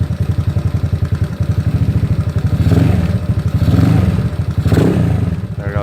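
A ZNEN ZN150T-9 SSR Interceptor 150 motorcycle engine idles close by with a loud, rapid, chugging pulse. It is revved up in three swells that rise and fall back to idle.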